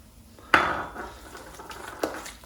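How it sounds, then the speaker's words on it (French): A spoon stirring mashed avocado with lemon juice in a bowl, with a sharp utensil clink against the bowl near the start and a lighter knock later, soft scraping between, no talk. "on mélange bien pour que le jus de citron s'imprègne bien avec l'avocat"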